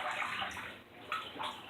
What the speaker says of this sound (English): Alright, let me pour this water in a big bowl.